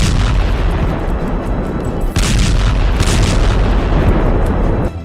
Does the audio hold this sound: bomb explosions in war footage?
yes